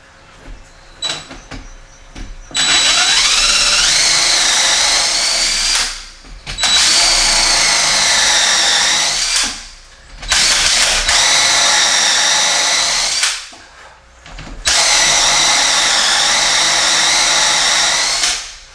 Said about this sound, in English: the glue in this particle board in these cabinets does not like to drill